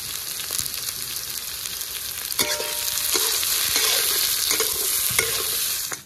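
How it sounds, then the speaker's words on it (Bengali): Carrot, capsicum and beans sizzle steadily in a pan while being stirred, with scraping clatters of a spatula breaking through the close, continuous frying hiss; no one speaks. "গাজর ক্যাপসিকাম বিনস ভাজা হয়ে গেছে"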